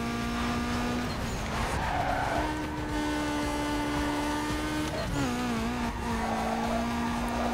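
Mitsubishi Evo widebody in the Need for Speed Underground 2 racing game, engine roaring steadily at high revs with tires squealing and skidding through corners, loud and continuous throughout.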